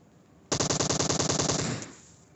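Automatic gunfire from PUBG Mobile rips out in one sharp burst of roughly fourteen rapid, evenly spaced shots, loud and close, ending in a short decaying tail after a quiet start.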